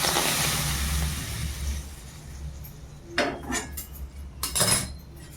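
Mixing thalipeeth ingredients with hot oil in a bowl, a soft rustling scrape followed by a few distinct utensil clinks against the bowl, close and fairly loud.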